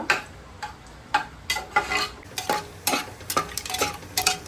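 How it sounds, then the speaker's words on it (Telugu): Ingredients frying in a pan for pressure-cooker chicken biryani, heard as a soft sizzle under repeated scraping and stirring strokes of a utensil, close by and without talk. "చక్కగా కొంచెం ఫ్రై చేసుకుందాము ఫ్రై చేసుకుంటే పచ్చివాసన అనేది పోయి బాగుండిద్ది"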